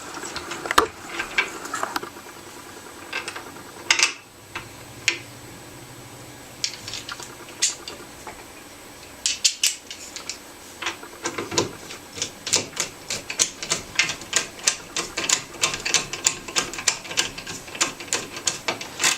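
Stainless screws being driven to mount a Picatinny rail on a Ruger 10-22 tactical stock, heard as a run of close, sharp clicks and taps, sparse at first and then quickening into rapid repeated ticks.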